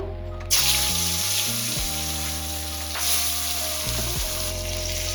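Chitol fish pieces drop into hot oil and start frying with a sudden loud burst of sizzling that settles into a steady crackling hiss, with occasional louder spatters and a low hum running underneath.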